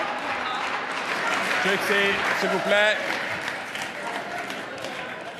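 Applause ripples through a parliament chamber during question period, a diffuse wash of clapping beneath a presiding voice speaking over it, swelling briefly midway.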